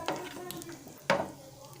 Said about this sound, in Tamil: இது நல்லா நம்ம வறுத்து எடுத்துக்கலாம்.